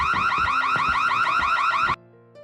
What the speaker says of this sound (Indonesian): alarm kebakaran di dapur berbunyi sangat keras